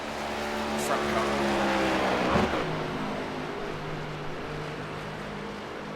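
NASCAR Gen 7 race cars in iRacing at Atlanta, engines droning in a steady layered roar with a brief sharp rise as cars pass close, while voices talk over the sound.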